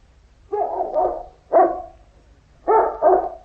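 A dog named Carlo barks in a 1951 old-time radio spy drama, three bursts of gruff double barks close to the microphone, with pauses between them and no talking.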